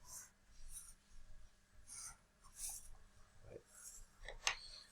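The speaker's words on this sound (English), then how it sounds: "I'm going to darken that one in with my pencil again" Soft, scratchy strokes of a brown coloured pencil shading wood grain on paper, a few quiet bursts of rubbing close by with gaps between them.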